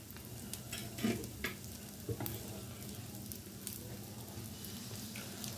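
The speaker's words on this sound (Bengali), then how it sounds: "এখন আমি একটা পিঠ ভালো করে একটু ভাজা হতে দিব, তারপর এটাকে উল্টাবো।" An egg-dipped paratha fries in a pan with a steady, close sizzle, joined by a few soft scrapes and taps of a utensil, with no voices.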